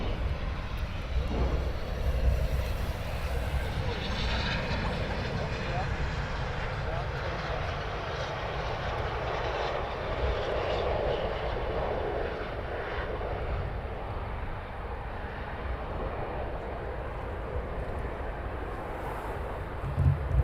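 RAF Typhoon jet landing at RAF Coningsby: a steady, broad engine roar sustained for about twenty seconds, with wind buffeting the microphone and a voice talking over it.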